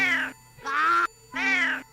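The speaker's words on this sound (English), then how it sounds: "Oh, it's a kitty cat." A domestic cat meows three times in a row, loud and close, each call drawn out and clear with brief silent gaps between.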